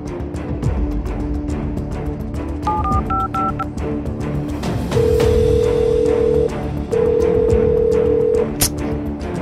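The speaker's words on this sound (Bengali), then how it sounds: "রিং হচ্ছে, ফোন ধরলো না।" A mobile phone call being placed: a few quick keypad tones, then two long, loud ringback tones separated by a pause, heard close over a low background rumble with no voices.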